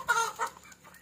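Farm chickens cluck in a brief burst of two or three close, moderately loud clucks on a Philippine farmyard, with no talking over them.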